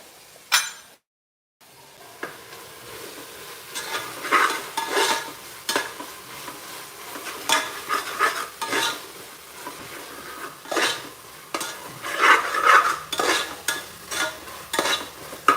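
Tomato and greens fry in oil for tomato rice bath while a spoon stirs them. Repeated scraping strokes ride over a steady sizzle, with a brief silent gap near the start.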